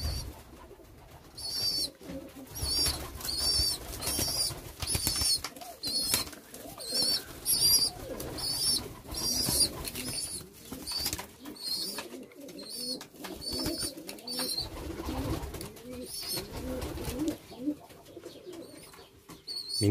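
Pigeons or doves coo repeatedly inside a coop with newly added birds, a steady layered chorus of soft rolling calls with some higher chirps, fairly close and continuous throughout.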